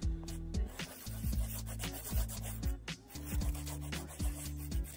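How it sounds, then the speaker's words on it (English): Poly gel nail extensions are filed in quick, repeated rubbing strokes, a close, steady scratchy rasp with short pauses between passes, no talking. "Then I trimmed and filed them."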